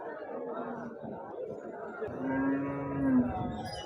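HF and Jersey cows at an open-air cattle market in Husnabad, Siddipet district, Telangana. One drawn-out moo rises clearly midway while people chatter close by.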